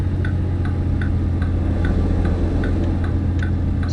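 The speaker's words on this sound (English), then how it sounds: "Just keep our blinker on" A truck's turn-signal blinker in American Truck Simulator ticks steadily at a quick, even pace, about two or three clicks a second, over a constant low engine drone.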